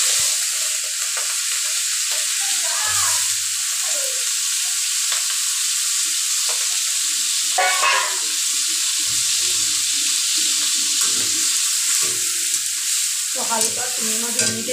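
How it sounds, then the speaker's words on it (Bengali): Prawns rubbed with salt and turmeric sizzle in hot oil for a radish-and-prawn curry, a loud, steady frying hiss up close with occasional stirring knocks and scrapes. "হালকা জাস্ট ভেজে চিংড়ি মাছটা তুলে রাখবো।"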